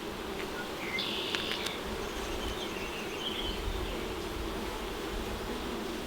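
Honeybees drone in a continuous low buzz close by during an open hive inspection, a steady hum of many wings with a few brief higher whines from individual bees passing near, and no talking.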